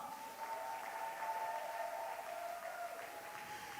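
Church congregation applauding at a worship service, a steady wash of clapping hands throughout with a sustained musical tone underneath, moderately loud and continuous.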